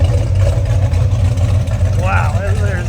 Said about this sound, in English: Let's listen to this exhaust.